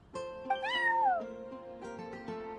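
Charcoal, a neighbor's cat in a video game, gives a long meow that rises and falls, followed by several shorter, fainter meows, clear and close with no talking.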